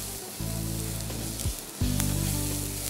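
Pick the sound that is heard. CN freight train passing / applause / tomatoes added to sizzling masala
tomatoes added to sizzling masala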